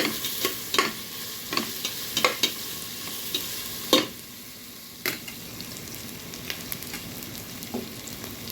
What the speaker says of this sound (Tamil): இஞ்சி பூண்டு ஜீரகம் சேர்த்துருக்காங்க. கிண்டி விட்டுருக்காங்க.